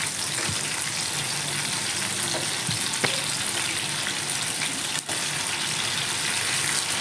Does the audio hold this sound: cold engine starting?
no